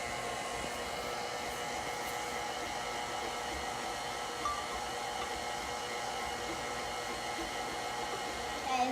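Electric mixer whirring steadily while mixing sugar cookie dough as flour is added, a constant close hum throughout.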